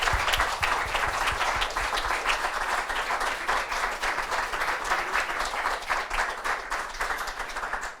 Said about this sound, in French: Je veux entendre des applaudissements